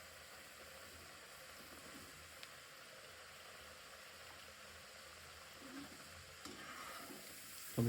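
Thin-sliced potato chips frying in hot oil in a village-style kitchen, a faint, steady fizzing sizzle running continuously and quietly throughout.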